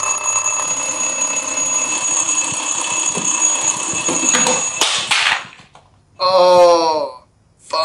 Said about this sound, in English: The alarm is so stressful.